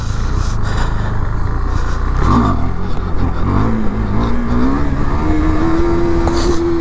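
KTM Duke 390 motorcycle engine revving hard in first gear during a long wheelie, a loud, steady near-field drone whose pitch climbs gradually as the bike holds the wheelie.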